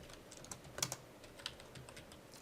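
Keystrokes of someone typing Java code on a computer keyboard, a quick irregular run of light clicks with a few sharper taps, close and alone with no talking.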